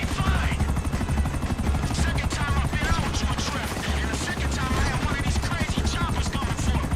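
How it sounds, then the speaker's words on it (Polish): A helicopter in Grand Theft Auto V makes a steady, dense rotor thrum and engine drone. The sound stays constant throughout, with faint clatter mixed in. "Gdzie jest ten helikopter?"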